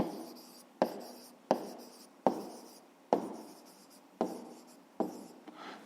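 A math solution written by hand on paper, quiet close scratching pen strokes in a regular rhythm of about eight bursts, each starting with a sharp tap and fading, alone without talk.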